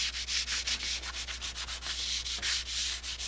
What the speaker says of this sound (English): we're doing a dry sanding